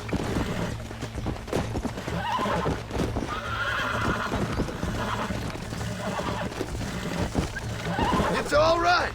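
Horse being broken in within the Red Dead Redemption video game, whinnying and neighing repeatedly amid clip-clop hooves and rough movement, with character voices talking over it.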